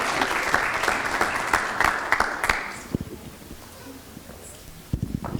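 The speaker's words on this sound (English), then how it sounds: "Can we give another round of applause to our amazing students?" Loud applause for students at a school board of education meeting fills the room for about three seconds, then fades, with a few scattered claps continuing afterward.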